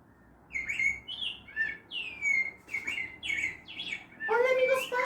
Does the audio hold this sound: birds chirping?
yes